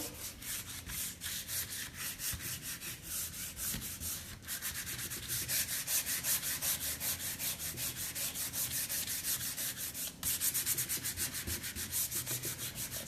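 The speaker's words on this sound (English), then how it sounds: "I'm gonna lightly go over, hit my edges." Sandpaper rubbing over the edges of a kitchen cabinet painted blue to distress it, a close, quiet, rhythmic back-and-forth scratching that continues steadily, with no talk.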